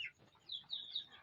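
Backyard chickens near a pig pen give faint, soft clucks and chirpy calls in short bursts, heard quietly at a distance.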